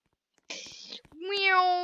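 A voice imitates a cat, giving one drawn-out, rising meow after a brief burst of noisy talk, close and fairly loud.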